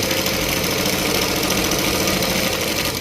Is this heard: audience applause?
no